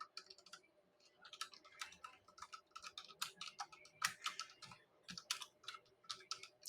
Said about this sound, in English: Then you'll type the message there